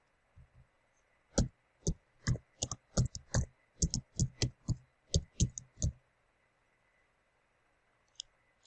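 Someone types on a computer keyboard while making a PowerPoint slide. About twenty crisp close keystrokes come in an uneven run over roughly five seconds, then quiet with one last soft click.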